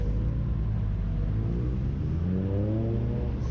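A Volkswagen Polo GTI rolls past at a drive-by car show, a loud close engine rumble rising in pitch as it accelerates, with no talk over it.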